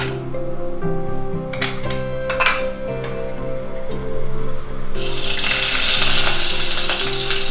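Garlic cloves, cut into large pieces, frying in a small amount of sesame oil inside a pressure cooker: a steady, close sizzle with occasional clinks of a utensil against the pot, growing into a louder, brighter crackle toward the end.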